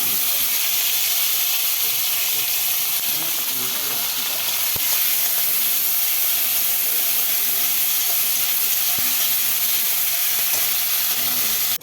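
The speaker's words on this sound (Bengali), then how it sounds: "তারপরে আমি কালো জিরা দিয়ে সম্বার দেবো, দিয়ে পেঁয়াজ কুচি আর টমেটো এগুলো সব দিয়ে দেবো" Black cumin is tempered in a pan, then chopped onion and tomato go in for a Bengali patal vapa. The result is a loud, steady sizzle and hiss throughout, broken by a couple of sharp clicks, with no voices.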